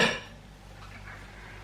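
Ceramic bowl grabbed and set down on a kitchen counter, a single short clatter at the start, then quiet room tone.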